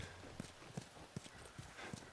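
A horse walks along in The Last of Us Remastered, its hooves clip-clopping in a steady, even rhythm. The footfalls are quiet and close over faint ambient background sound.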